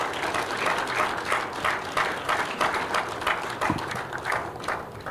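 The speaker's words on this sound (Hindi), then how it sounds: "a special round of once again जोरदार ताली for this young," Audience applause at a conclave, rhythmic crowd clapping in near-unison beats that continues steadily at moderate loudness, with no talk over it.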